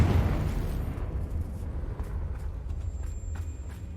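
An exploding Confringo fire spell in the video game Hogwarts Legacy, a dense rumbling blast that is loudest at the start and decays into a low roar with faint crackles and clicks.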